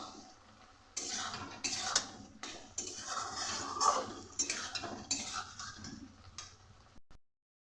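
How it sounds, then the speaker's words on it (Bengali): Spoon scraping and stirring through turmeric, Kashmiri chilli, coriander powder and a little sugar as they fry in a pan, a run of close, irregular clinks and scrapes with a faint sizzle underneath. "এবার ভালো করে একসাথে কষিয়ে নেব।"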